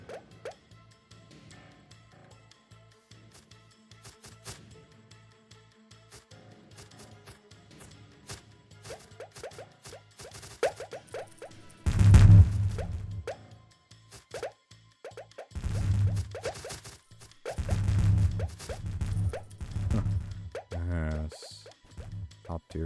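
Bubbly plops and pops from Leviathan class skills in a video game sound in scattered clusters, sparse at first and then louder and denser, with a little talk now and then.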